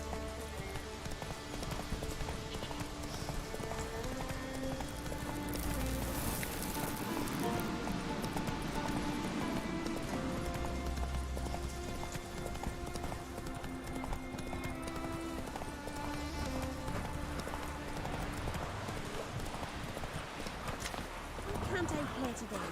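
The horse Roach gallops in The Witcher 3 video game, a steady rapid clip-clop of hooves running throughout beneath in-game music and occasional voices.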